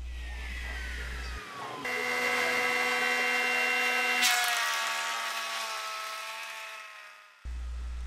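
A bandsaw cuts a thick wood board: the motor whine spins up and settles into a steady, bright, ringing tone through the cut, then runs down, and a low rumble returns at the end, with no talk.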